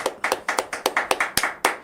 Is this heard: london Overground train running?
no